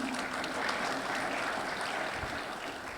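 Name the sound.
audience applause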